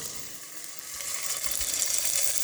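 Ham slices sizzling in olive oil in a pan, a steady, bright frying hiss that swells slightly louder toward the end, with no voices.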